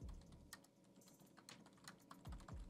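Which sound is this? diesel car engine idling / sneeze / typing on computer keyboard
typing on computer keyboard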